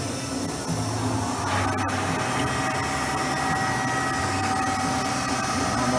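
A lathe machining an aluminum Seadoo rotary valve gives a steady mechanical hum and whine with a faint tonal ring, running continuously up close.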